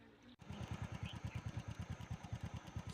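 A motorbike ridden along a rural road on a trip to a strawberry farm, its engine chugging in a steady, fast pulsing rhythm that starts abruptly and runs loud and close throughout, with no talk.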